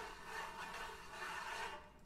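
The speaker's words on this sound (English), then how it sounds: "you can play them with your nails" Tambour drum head rubbed and scratched with fingernails, a continuous close, dry scraping hiss that swells slightly in two waves, with no voices.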